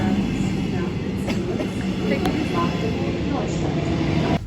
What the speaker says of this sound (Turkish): Sonunda son trenimiz geldi.